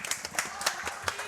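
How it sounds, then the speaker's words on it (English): Audience applause at a women's finals of a summer slam competition in the Northeast, scattered sharp claps repeating in an uneven rhythm at moderate distance, fairly faint with no talking. "We're clapping."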